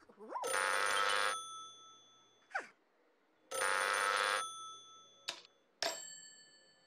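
A toy telephone rings in two long bursts of bright electronic tones, each followed by short chirps and a brief, higher voice-like squeak.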